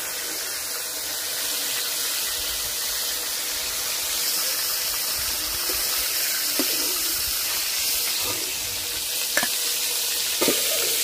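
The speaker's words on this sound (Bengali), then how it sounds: "দেখি কতটুকু ভাজা হয়েছে।" Egg korma with purple cauliflower frying in a pan, giving a continuous close sizzle with occasional clicks of stirring, loud and steady with no voices.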